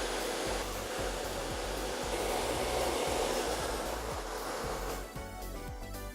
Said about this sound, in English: tipping the dryer on Emily's texture